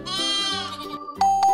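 Several goat bleats, wavering and nasal, close to the microphone, followed by two short bright electronic chimes.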